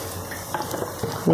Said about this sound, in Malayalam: ഇട്ട് കൊടുത്തിട്ട് നമുക്കൊന്ന് നന്നായിട്ട് ഇതിനെ ഒന്ന് മിക്സ് ചെയ്യാം